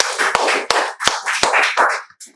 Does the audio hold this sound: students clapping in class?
yes